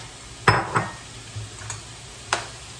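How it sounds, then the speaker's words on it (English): Tomatoes being stirred into a hot pan: a few distinct scraping clacks of a utensil against the pan over a faint, steady sizzle, close by and fairly loud. "Now I'm gonna add in the tomatoes."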